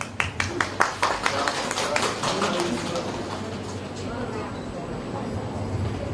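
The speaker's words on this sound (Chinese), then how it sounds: "让我们热烈掌声有请王总" At a wax figure unveiling ceremony in Beijing, the audience applauds to welcome a speaker: a run of sharp claps builds over the first two seconds, then thins into a softer, fading patter of scattered clapping.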